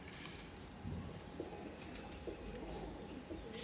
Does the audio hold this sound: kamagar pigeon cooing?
yes